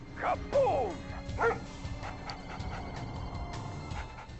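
Red Alert 2 Yuri's Revenge attack dogs, Allied German Shepherd or Soviet Husky, give a quick burst of barks and yips at the start, then fade to quieter game background with scattered clicks.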